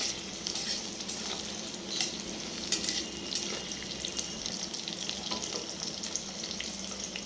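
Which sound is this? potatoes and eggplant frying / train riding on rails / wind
potatoes and eggplant frying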